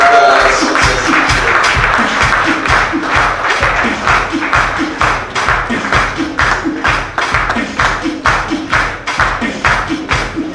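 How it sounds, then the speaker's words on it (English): An audience at an awards ceremony gives a loud, sustained round of applause to welcome a speaker to the stage, the clapping sharp and close and at times falling into a rhythmic beat. "Let's welcome to the stage with a big round of applause"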